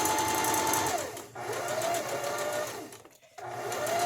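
Close, steady whirring of a sewing machine stitching fabric, with a brief stop and dip in speed where it back-stitches before running on again.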